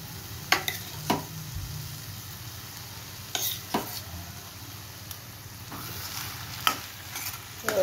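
Vegetables for pav bhaji tossed and sautéed in a hot pan, a quiet steady sizzle broken by several sharp clinks and scrapes of a spoon stirring against the pan.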